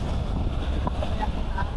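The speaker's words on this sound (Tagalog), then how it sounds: "Ang lakas ng hangin." Strong wind gusts buffet the microphone in a constant low roar beside the North Luzon Expressway during a bicycle ride, with faint voices underneath.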